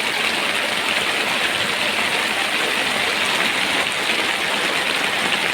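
Torrential rain hammers a fishing boat at sea in a storm, giving a thick, constant hiss and patter that stays loud and close throughout, with nobody speaking.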